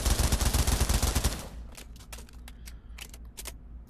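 A rapid burst of fully automatic gunfire from a gun in the VR shooter Pavlov rattles loud and fast for over a second, then stops, leaving a few scattered clicks and taps.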